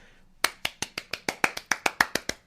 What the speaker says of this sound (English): I'm clapping, yes, thank you.